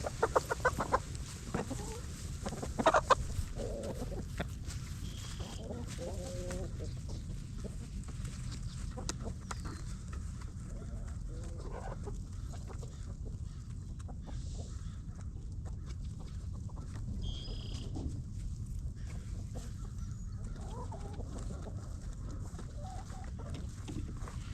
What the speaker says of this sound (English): So the chickens have been doing real well.